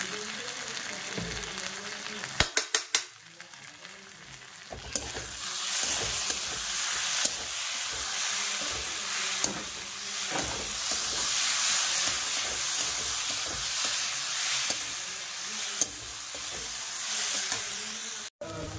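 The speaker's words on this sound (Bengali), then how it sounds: "আমার ডালটা একটু ফ্রাই করা হয়ে গেছে" Dal frying in a pan with salt and turmeric, a steady broadband sizzle with stirring scrapes running throughout, preceded by a few sharp clicks early on and ending with a brief knock.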